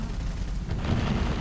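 Gunfire in the battle-royale video game Totally Accurate Battlegrounds, a dense, continuous low rumble of shots and booms running throughout at steady loudness.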